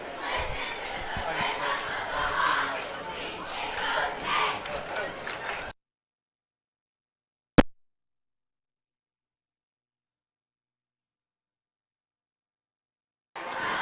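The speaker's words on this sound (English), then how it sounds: "just want to love to see the crowd out tonight cheering on our team" A high school football crowd cheers and shouts in a loud, continuous roar of mixed voices for about six seconds, then cuts to silence broken by a single sharp click.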